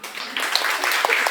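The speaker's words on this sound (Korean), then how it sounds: "박수" A small audience in a lecture room claps, scattered hands starting after a brief pause and continuing steadily at moderate level.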